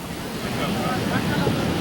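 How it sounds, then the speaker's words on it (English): Heavy surf rolls in at the Banzai Pipeline on Sunset Beach, a dense, loud wash of breaking waves and rushing water, roughened by wind buffeting the microphone, steady throughout. "Spike, look at them waves."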